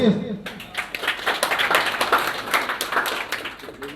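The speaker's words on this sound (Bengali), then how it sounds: "অর্গানাইজার ভাইদের জন্য একটি তালি হবে প্লিজ" An audience at a hospital's annual function claps for the organizers, a dense, crackling burst of applause that runs steadily for several seconds after a brief spoken moment at the start.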